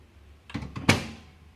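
A microwave door swings shut on an eggless mug cake, heard as a couple of soft knocks followed by one sharper closing thunk, close by in a quiet kitchen.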